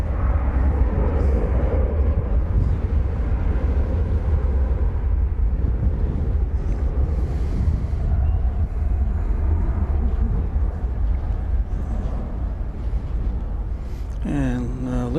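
A Lufthansa Airbus A330 arriving at DFW Airport rumbles as a steady, broad jet roar that holds loud and constant throughout, heard at a distance outdoors with wind noise.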